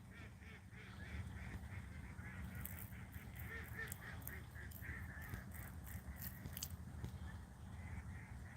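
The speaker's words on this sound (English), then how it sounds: "Hear these ducks?" Ducks honk and quack in a faint, distant flock, a busy chatter of overlapping calls that runs throughout under a steady low rumble.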